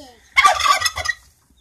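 A hen and chick calling together in a short burst of clucks and chirps, close and fairly loud, then quiet.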